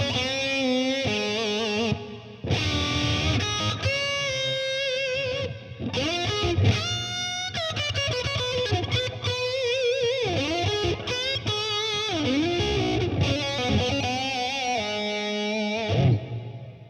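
Electric guitar played through an EVH 5150 6L6 50W amp with some effects, giving a dense, sustained, driven tone of bent notes and chords that plays continuously and loudly with barely a break.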